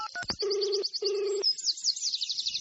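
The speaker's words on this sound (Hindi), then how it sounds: "मैंने फिर से कॉल लगाया।" A telephone sound effect: a quick series of dialing tones is followed by two long steady ringback tones, then a warbling electronic ring pattern repeating at the top of the range, loud and with no voices.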